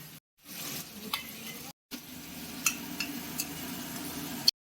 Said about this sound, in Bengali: এবারে আমরা দিয়ে দিচ্ছি কাজু চারমগজ আদা রসুনের পেস্ট লঙ্কা